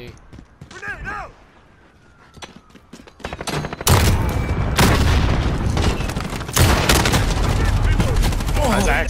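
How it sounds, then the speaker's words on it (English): A grenade blast followed by heavy, sustained gunfire in a Road to Damascus video game match roars loud and dense for several seconds after a quieter stretch with a voice speaking over light ambience. "Grenade out."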